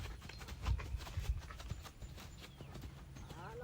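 Horse hooves clip-clop in a steady rhythm during a riding training session, the strongest hoofbeats near the start and continuing beneath faint background noise.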